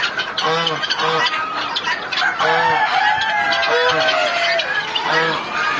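Farm chickens kept together cluck and squawk in repeated bursts close by, with a rooster's crow among them and someone talking underneath.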